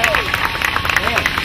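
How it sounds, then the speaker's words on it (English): A circus crowd applauds, brisk claps close and loud alongside crowd murmur, with a voice speaking over the clapping. "Another round of applause for Dynamite Dick Hartman!"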